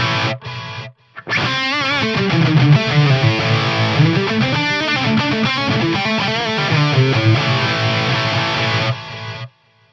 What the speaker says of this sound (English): And studio, which is like a more hi-fi version of the tape.